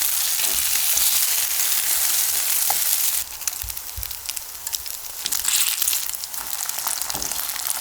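Pollock fish pancakes bound with egg fry gently in a pan over low heat, giving a close, steady hissing sizzle with soft crackles that shifts slightly midway.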